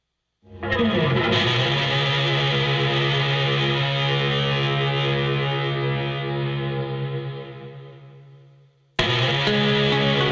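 A heavily distorted electric guitar, programmed through an amp simulator, sustains a single thick, buzzing chord that slowly fades, then a new chord crashes in abruptly.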